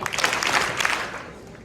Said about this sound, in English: Three big claps for Chloe Quinn.